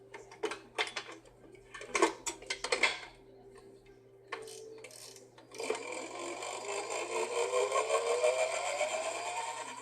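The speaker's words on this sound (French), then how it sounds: "je vais fouetter ça jusqu'à l'obtention d'une chantilly bien" A stand mixer whips mascarpone cream with sugar and vanilla pods, first in rattling, uneven bursts with clinks against the bowl, then settling into a continuous whirring hum that slowly rises in pitch.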